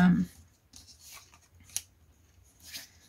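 Scissors cut through paper for a scrapbook album page, making a few short, close snips and rustles separated by brief pauses. A quick burst of a voice opens the moment.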